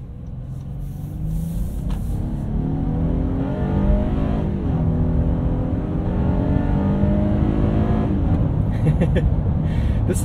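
A 2022 Honda Passport TrailSport with a 280-horsepower 3.5-liter V6 accelerates hard, heard from inside the cabin. The engine drone rises steadily in pitch, dips briefly at a shift, then climbs again, loud and continuous.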